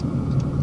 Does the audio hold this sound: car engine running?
yes